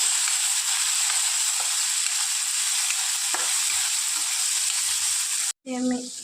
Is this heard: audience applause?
no